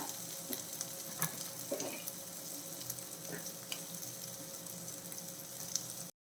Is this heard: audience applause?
no